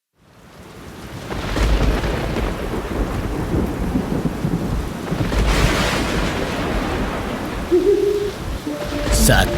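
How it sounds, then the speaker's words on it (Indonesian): A nighttime thunderstorm rolls in with deep, loud rumbles of thunder swelling over steady rain, the rumble rising and falling in long waves, with a few faint higher tones near the end. "Saat badai di suatu malam"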